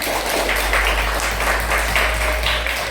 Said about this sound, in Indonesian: kalau sudah bahagia kita tepuk tangan dulu